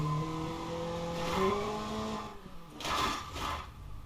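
Car engine in a crash simulator video game, a sustained tonal drone with steady harmonics and shifting pitch, followed by broad noisy bursts like skidding and impact toward the end, fairly loud and without talk.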